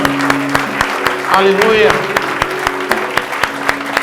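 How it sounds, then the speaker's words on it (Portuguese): Church congregation at a celebration service applauds warmly and steadily, a crowd of hands clapping in a large hall while a voice speaks over it and instruments sustain underneath. "Vamos aplaudir ao Senhor."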